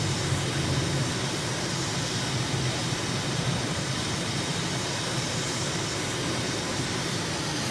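Jet airliner taking off in Microsoft Flight Simulator near Abu Dhabi, a steady loud roaring engine wash with broadband hiss that holds constant throughout, with no voices.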